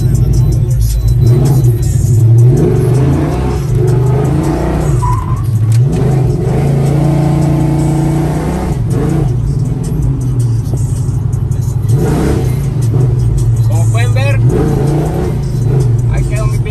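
A pickup truck with a 4L60E automatic transmission runs after a transmission repair, its engine droning and rising in repeated revs, with voices talking over it throughout.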